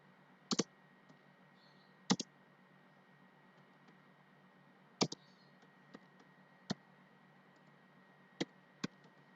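Scattered key clicks from a computer keyboard while an SQL Plus command is typed in a Linux terminal, sparse and quiet, single taps and quick pairs over a steady low hum.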